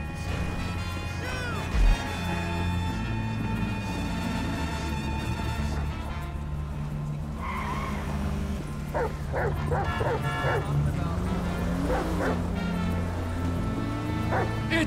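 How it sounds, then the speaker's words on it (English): A dog in Grand Theft Auto V barks and yips repeatedly over steady background music, with a voice talking at times and a brief crash early on. "It's a guy chasing a dog!"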